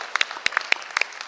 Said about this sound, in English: the sound that you're hearing right now, you gotta give a little clap to Motor City Match